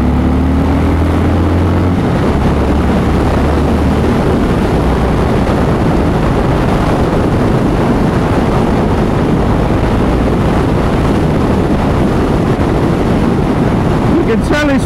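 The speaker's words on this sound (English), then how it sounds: "Full speed run, I think." Harley-Davidson Super Glide motorcycle on a full-speed run, a loud continuous engine drone heavily buffeted by wind rushing across the microphone, steady throughout with no pauses.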